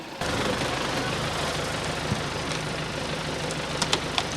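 An MTZ 89.2 tractor engine runs a hydraulic log splitter, a steady loud diesel idle with an even rumble, broken by occasional knocks and clicks near the end.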